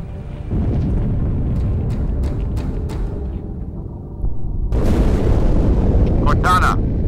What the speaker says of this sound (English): That explosion was from inside the Athens, same as the Malta.